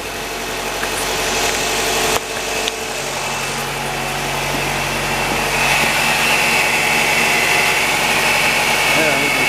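A Nissan Sentra engine idles steadily with its alternator belt spinning, a continuous close whirring hum with one brief dip partway through, while a person talks over it.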